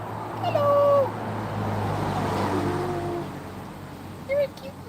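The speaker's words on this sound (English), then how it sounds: "Oh, this is a really friendly kitty." A friendly cat gives two clear meows outdoors, one early and one short one near the end, over traffic hum from a passing car.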